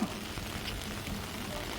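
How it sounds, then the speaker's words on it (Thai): Steady broadband hiss of rain falling, continuous and fairly soft throughout, with no distinct drops standing out. "ฝนตก"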